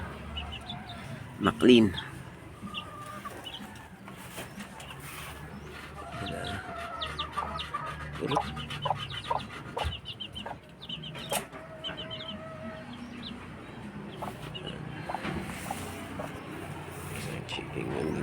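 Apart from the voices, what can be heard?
native chicken clucking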